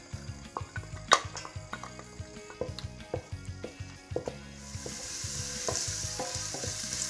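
Chopped onions going into olive oil in a heated cooking pot, with regular stirring knocks over a soft sizzle that grows into a steady, louder frying hiss in the second half.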